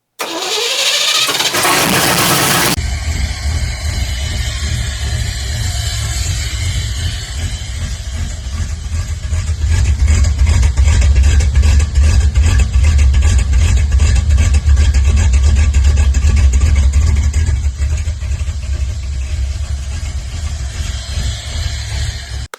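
Car engine cranks with a rising starter whine, catches, then settles into a loud, steady, rumbling idle that swells slightly partway through, close by with no talking.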